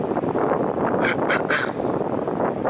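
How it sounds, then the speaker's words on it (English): Strong winter storm wind buffeting an outdoor microphone near a small wind turbine, loud continuous rumbling gusts with a brief hissy surge in the middle. "Twice as windy"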